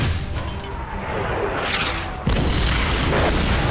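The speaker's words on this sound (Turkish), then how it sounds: "Yalnız tank bayağı yavaş hareket ediyor. Oha, tank savaşıyor." Heavy tank cannon fire in a Valiant Hearts battle, deep booming blasts rolling under a rumbling din, with a sharp louder boom partway through.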